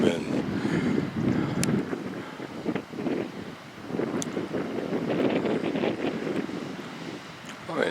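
Wind blasts and rumbles against the microphone in strong, uneven gusts along the Pembrokeshire coast path near St Davids, Wales. It roars loudly throughout, with no voices.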